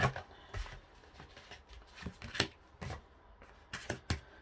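Tarot cards shuffled and drawn by hand, a run of soft, close riffles and slaps arriving in irregular bursts, quiet and with no talking.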